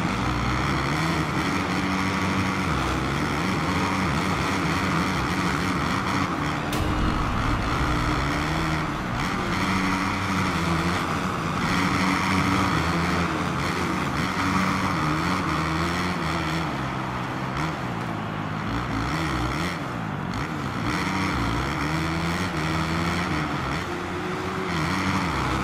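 A motocross bike engine in Supercross 5 on an arenacross track, a continuous loud revving whine that rises and falls with gear shifts and throttle, steady and close throughout with no talk.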